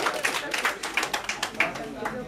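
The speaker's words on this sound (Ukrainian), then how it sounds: "Оплески Богдану!" Scattered clapping from a small audience at a stage show, a few distinct hand claps in loose rhythm, fairly faint and mixed with voices.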